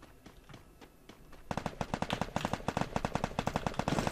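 Free Fire game gunfire, faint scattered shots at first, then dense rapid automatic bursts that come quick and loud, close by, with brief gaps between volleys.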